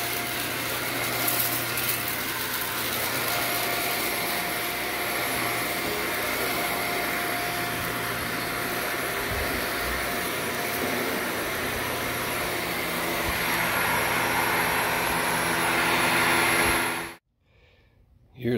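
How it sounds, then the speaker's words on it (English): A carpet-cleaning vacuum machine works over a pet-urine-soiled, heavily soiled carpet, a loud steady roaring whine sustained for many seconds before cutting off abruptly near the end. "I'm gonna vacuum with my machine"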